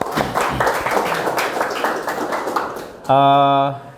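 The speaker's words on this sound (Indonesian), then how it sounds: "Oke, tepuk tangan dulu buat kita semua" A class claps together, a dense, fairly close burst of many hands that fades after about three seconds and is followed by a sustained tonal sound.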